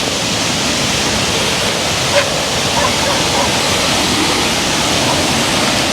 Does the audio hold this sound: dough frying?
no